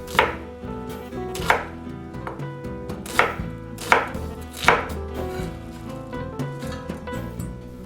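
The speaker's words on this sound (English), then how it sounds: "I cut the onions into pieces." A knife chops onions into pieces on a cutting board while making paella, about five crisp, evenly spaced strikes over soft background music, with no voices.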